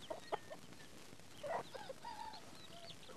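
A chicken in a village household yard gives a few short, quiet clucks, scattered and faint against a soft background.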